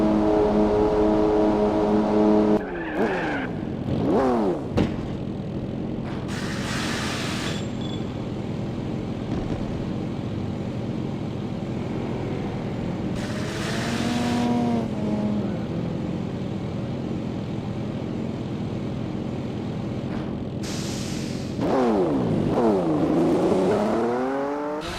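Race car in Gran Turismo 4 pulling out of the pit stop during a Nürburgring endurance race, with an engine revving and climbing through gears and a long steady drone between rising sweeps.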